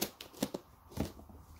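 Scissors snip through paper wrapped around a cardboard box during an unboxing, giving several short, crisp cuts in quick succession at close range, fairly quiet.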